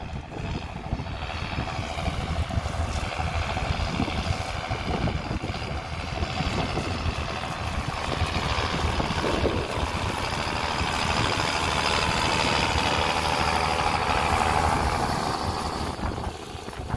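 A tractor engine runs at a steady idle out in a farm field, producing a continuous loud drone with a slight swell, with no voices over it.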